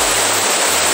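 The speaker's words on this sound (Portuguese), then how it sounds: "Aqui é a cachoeira Ponta Amarela." Ponte Amarela waterfall in Analândia, a low waterfall, gives a constant loud broadband rush of falling water, close and unbroken, with no voices.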